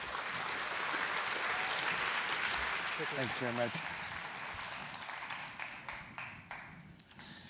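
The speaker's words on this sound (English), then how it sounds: "Please welcome him with a warm round of applause." An audience at a talk on soil breaks into a warm round of applause welcoming the speaker, the clapping strong at first and then thinning out into scattered claps as he starts speaking and thanks the crowd.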